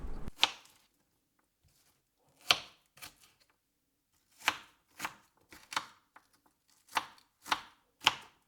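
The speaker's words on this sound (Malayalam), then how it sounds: "ചിക്കൻ ഫ്രൈ ആവുന്ന സമയം കൊണ്ട് നമുക്ക് ഗാർണിഷിങ്ങിനുള്ള ഉള്ളി, പിന്നെ കുക്കുംബർ," Onion, cucumber and carrot chopped on a board for a garnish, about a dozen crisp knife strikes in irregular clusters with quiet gaps between, close and clear with no talking.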